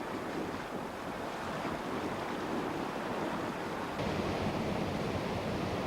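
Rough river water churns at the Umkomaas River Canoe Marathon in 1988, where a canoe crew skirts the waves. The rush of water and gusting wind noise is steady and fairly loud, with no voices.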